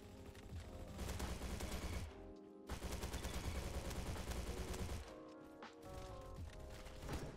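Rapid automatic AK rifle fire crackles in sustained bursts during a Roblox Bad Business match, dense and loud, with two short pauses between volleys and no voices.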